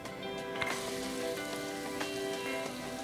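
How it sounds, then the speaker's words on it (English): Dense, steady sizzle of chopped onions frying in hot oil over a high flame, a continuous crackling hiss with faint pops, heard up close with no voices. "Saute this at high flame until the onions turn nicely golden."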